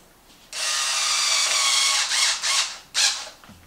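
A Hyper Tough power driver with a 2.5 bit tightens a screw on a Traxxas MAXX RC car rear axle, whirring loudly and steadily for about two seconds, then giving two short bursts.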